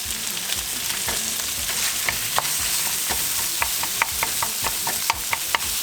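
Onions frying with browned meat in a pan for Somali rice and muscular, a steady sizzle with repeated scraping stir strokes and utensil knocks, no voices.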